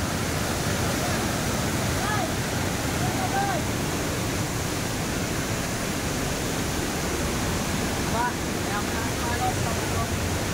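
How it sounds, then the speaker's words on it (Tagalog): Floodwater pours down from the mountains during a typhoon, a steady, dense roar of cascading water without a break. A few faint voices sit under the noise. "Diyan makita bumabagsak yung tubig galing sa kabundukan"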